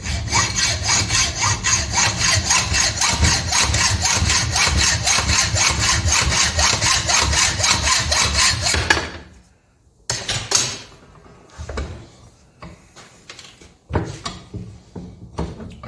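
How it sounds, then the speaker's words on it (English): A hand saw cuts down a 6mm countersunk metal stud with fast, rhythmic rasping strokes for about nine seconds, followed by a few scattered scraping and handling sounds. "So I'm going to cut this stud down."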